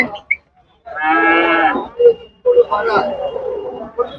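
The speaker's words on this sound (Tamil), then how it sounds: "நல்ல பெரிய பெரிய காளைகள் வரப்பிருக்கு இந்த வண்டியில" Bulls at a busy cattle market moo loudly nearby, with one long low bellow followed by shorter calls and grunts, while someone talks at the same time.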